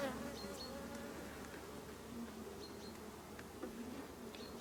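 Honeybees hum steadily at open hive frames during a nucleus colony inspection, a faint, dense, continuous buzz with occasional individual bees passing close.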